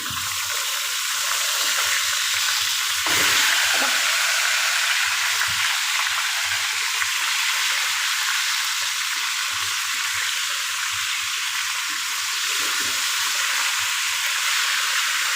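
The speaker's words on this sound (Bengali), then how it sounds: "আমার মাছগুলো এক পাশ ভাজি হয়ে গেছে আমি অন্য পাশ উল্টে দিচ্ছি" Fish pieces for muri ghonto fry in a pan after being turned over, a loud, steady hissing sizzle with a short clatter early on, and no one speaking.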